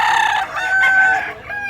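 A bullstag gamecock for sale at a market in Tabunok, Cebu crows loudly and close, one long strained call rising and wavering, with a brief cluck near the end.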